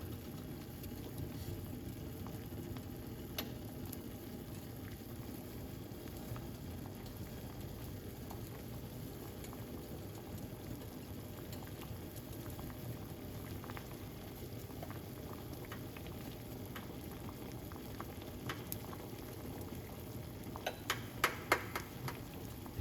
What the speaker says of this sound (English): So we just want to make it boil for a bit